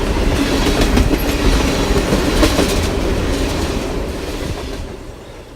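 A train rolls along railroad tracks with steady clickety-clack of wheels over rail joints, loud and near at first, then slowly fading as the cars pass by.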